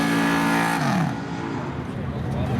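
A 1981 Chevy Malibu wagon and a 98 Camaro lay rubber at a speedway drag strip, a loud engine roar that drops in pitch and gives way to a broad rushing tire and crowd noise, with a voice talking over it.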